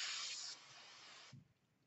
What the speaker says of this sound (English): spray the snot out of it.